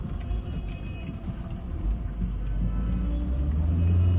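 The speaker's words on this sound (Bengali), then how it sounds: "আর এই ট্রাফিকটা তো খুবই বাজে" Low rumbling road traffic in Kolkata, engines of cars and buses humming and swelling steadily nearby with a growing bass drone toward the end, no clear talk.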